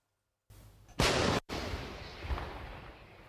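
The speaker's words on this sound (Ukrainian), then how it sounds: "Снаряд калібру 155 міліметрів. пронизує повітря неподалік Покровська." A single 155 mm artillery gun fires with a loud, sharp blast, followed by a long rumbling roar and echo rolling outdoors near Pokrovsk.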